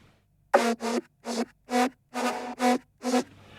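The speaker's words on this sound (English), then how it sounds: "it's just the same lead with a very large low cut on" A high synth lead layer with a heavy low cut plays a rhythmic run of about seven thin, bright stabbed notes with short gaps between them, alone and close.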